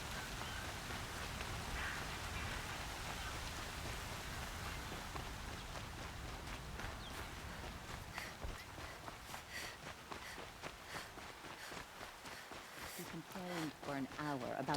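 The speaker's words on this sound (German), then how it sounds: "Das war aber ein sehr schneller Regenschauer." A short rain shower in the video game Horizon Zero Dawn: steady broadband hiss of rain with pattering drops, under scattered game sounds and steps, fading toward the end.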